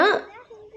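A single short bark from a dog near a flock of sheep, close and fairly loud, fading quickly into quiet background noise.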